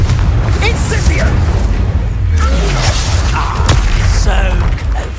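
Spell blasts from Incendio and Confringo in Hogwarts Legacy boom and crackle during a loud, dense fight, with repeated bursts over a heavy low rumble and a voice calling out between them.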